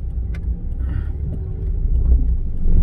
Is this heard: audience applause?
no